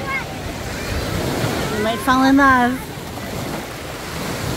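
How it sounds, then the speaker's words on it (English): Ocean waves roll and wash onto a beach at Destin, Florida, with steady wind buffeting the microphone throughout, while a person speaks briefly over the surf. "There's waves."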